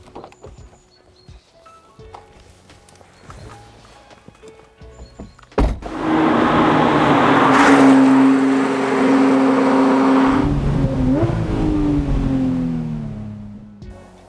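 Porsche 991 Speedster starting and driving off: quiet clicks and handling noises give way to a sudden loud engine start, a sustained strong rumble and a rising rev as the car pulls away, close by.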